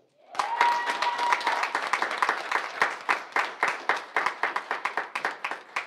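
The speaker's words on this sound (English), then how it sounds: "Let's give them another round of applause." Graduation ceremony audience clapping, a round of applause that swells quickly, holds, then thins into fewer, distinct claps toward the end, with a brief tone at the start.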